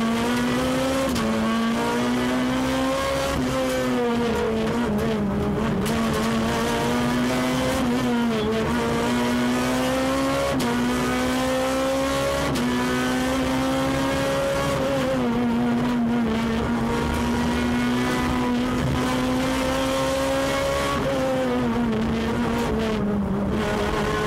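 Onboard a Renault Clio R3 rally car at Rallye Sanremo 2008, the engine revs hard and loud throughout, climbing and dropping through repeated gear changes under wind rush.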